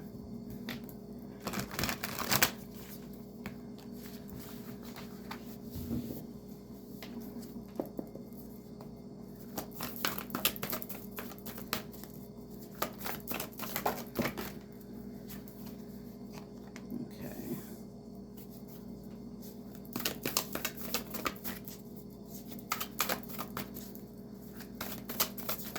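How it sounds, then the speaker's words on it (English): Oversized cards shuffled by hand in repeated bursts of soft riffling and flapping, with pauses between rounds over a low steady room hum. "these cards are huge, so they're a little difficult to shuffle."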